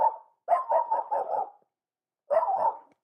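A voice imitating a dog, giving a run of five quick barks, a pause, then another short burst of barks, loud and close.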